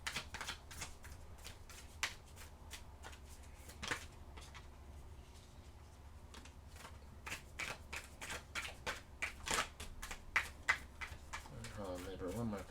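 Tarot cards are shuffled close by in a steady rapid run of soft flicking riffles, with a few sharper snaps and a brief quieter patch partway through.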